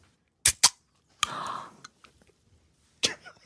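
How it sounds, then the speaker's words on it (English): Two quick sharp clicks are followed by a hissing fizz as a lemonade can's tab is pulled open, then another short crack, close and clear in quiet. "This is the sound of lemonade being opened."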